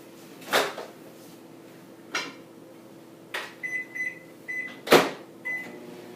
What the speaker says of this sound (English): I'm going to toss this in our microwave.